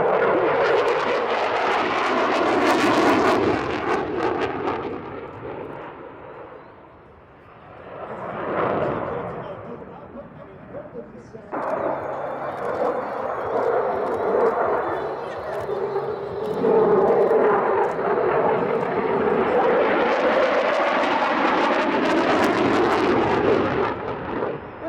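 A Eurofighter Typhoon jet at the Radom International Airshow, its engine roar swelling and fading in repeated loud passes, dropping to a lull midway, with a commentator talking over it.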